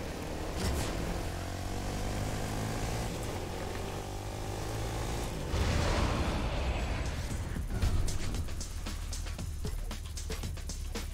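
A propeller airplane in the video game Fortnite drones steadily and close at hand, a continuous engine hum with a throbbing low tone. Sharp clicks and bangs from the game scatter across it toward the end.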